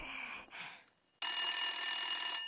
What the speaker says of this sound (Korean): 전화 좀 받으렴.